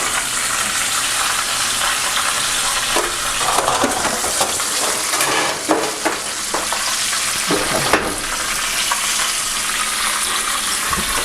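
Bone fish fry in a pan with a loud, dense, continuous sizzle and crackle, steady throughout with occasional stronger pops and spatters, no voices.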